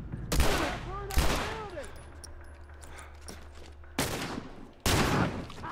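Loud gunshots in The Last of Us ring out close, one after another with gaps between, each sharp crack followed by a short decaying echo.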